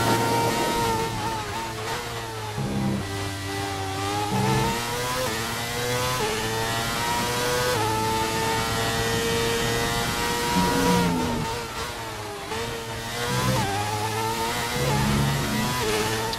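A Formula 1 car engine in the F1 2019 video game whines loudly and continuously, its pitch rising through the gears and dropping on downshifts for braking before climbing again.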